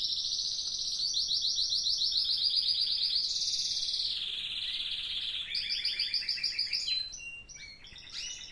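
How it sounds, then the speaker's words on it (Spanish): Several small birds sing and chirp continuously close by, bright rapid trilling phrases that shift pitch and overlap, loud and clear with no talk. "ahí hay pájaros."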